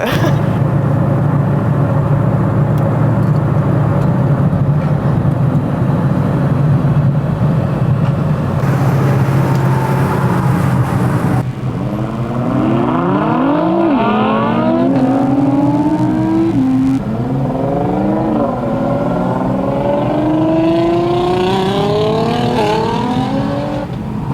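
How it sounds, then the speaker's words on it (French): A Ford Mustang and a Dodge roar down an airstrip in a drag run. Loud engines rev and accelerate through repeated gear shifts, the pitch climbing and dropping as they pull away. "un petit run, la Mustang contre la Dodge pour le kiff"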